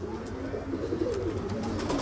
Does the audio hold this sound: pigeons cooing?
yes